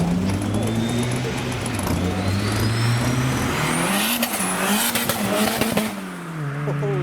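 A car leaving a car meet revs hard and accelerates away, pitch climbing through gear changes, loud and close, with a brief tire squeal and crowd voices beneath.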